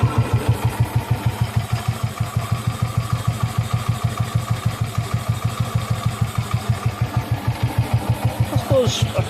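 A BSA B31 motorcycle engine idles close by with an even, rapid thumping beat that holds steady throughout, loud and alone.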